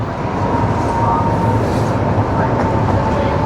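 The loud, steady rumble and rattle of a Chicago subway train running close by underground, with a constant drone and no break.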